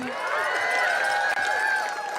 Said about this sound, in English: Round of applause for Brother Patrick.